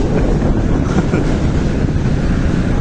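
Sea surf and strong wind at a beach, with gusts buffeting the microphone into a loud, constant rumbling roar that buries the waves beneath it.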